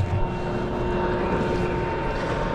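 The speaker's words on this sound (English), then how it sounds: "Landing the drone" A camera drone flying over a fishing boat at sea, its steady propeller whine and buzz droning continuously at close range over a low rumble of wind and engine noise.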